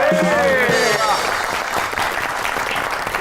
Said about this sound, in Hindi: आपकी बहुत सी तालियों में जुल्फिकार अली बदर